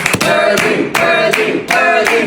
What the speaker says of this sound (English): Clap her in.